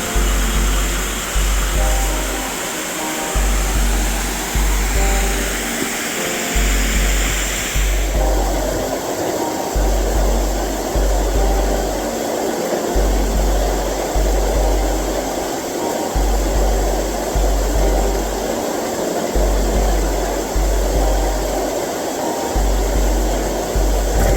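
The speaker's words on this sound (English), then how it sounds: "Sseoribong waterfall." Sseoribong waterfall in Odaesan National Park, South Korea, gives a steady, loud rushing roar throughout, with periodic low thumps and rumble underneath from the recorder's movement.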